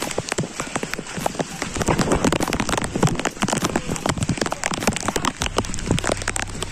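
Heavy rain falls on an outdoor football ground, a dense, loud patter of drops hitting the surface without a break.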